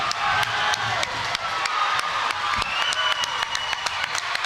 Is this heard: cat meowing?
no